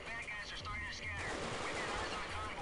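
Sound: gunfire in Black Hawk Down video game

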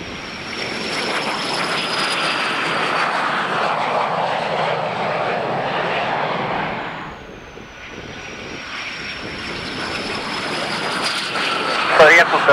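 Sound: aircraft landing at La Aurora airport, Guatemala

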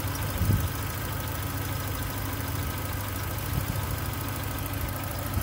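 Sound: Volkswagen Golf MK3 engine idling

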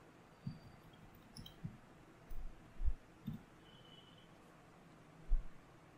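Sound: computer mouse clicking

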